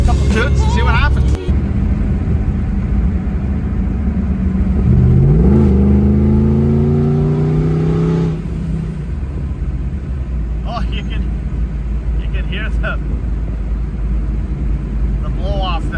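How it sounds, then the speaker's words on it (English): Beat-up supercharged SUV revving hard, exhaust roaring as a rising supercharger whine climbs in pitch like a spooling turbo, then a blow-off release and quieter idle with brief bursts afterward; voices talk over parts of it. "I absolutely love the way the exhaust sounds, but when you listen to that supercharger, it spools up like a turbo."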